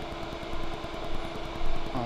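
A blue electric fan running on high power makes a steady close whirring hum with a fast rhythmic flutter in the blades, swelling slightly louder near the end.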